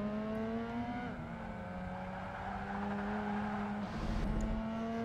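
Steady, loud engine drone of racing cars in Project Gotham Racing 2 as a Nissan 350Z and Mazda RX-8 are passed, the tone holding then shifting pitch as a gear change or overtake comes near the end.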